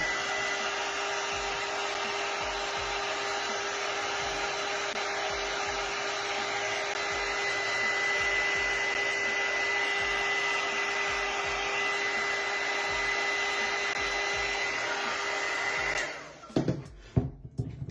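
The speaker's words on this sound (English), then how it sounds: "heat gun" A heat gun blows steadily over a decoupaged glass bottle, a loud constant whooshing hum with a faint whine, then shuts off near the end, followed by a few light clicks and knocks.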